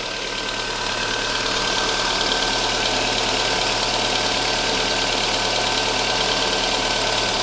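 A Volkswagen Golf IV with the 1.6 AZD engine idles steadily and close by, a continuous even running drone with a light ticking texture throughout, no voices.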